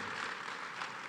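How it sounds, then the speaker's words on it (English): Applause from a conference audience at Global Fintech Fest 2024 welcoming SBI's new chairman, a steady broadband wash of clapping with no voices over it for about a second. "let's have a round of applause for the, and congratulations for the new chairmanship"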